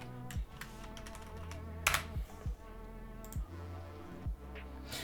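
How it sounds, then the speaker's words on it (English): Continuous computer keyboard typing with steady rapid clicks, a few louder key strikes standing out, close and alone with a low background hum and no talk. "I'm typing this for the other video."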